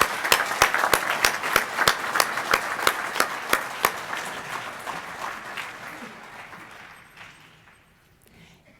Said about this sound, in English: Let's give our HVAC graduates one more round of applause.